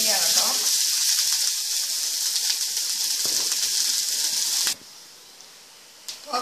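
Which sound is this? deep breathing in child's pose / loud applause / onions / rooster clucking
onions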